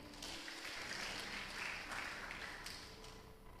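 A church congregation in Lubuk Pakam applauds together, a steady, soft wash of clapping that sounds distant and roomy. It holds evenly for a few seconds before easing off slightly, with no voices over it.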